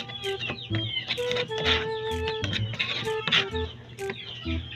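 Young chicks in a backyard peep and cheep in overlapping high calls, with lower clucking from fowl nearby, steady and close over a short stretch.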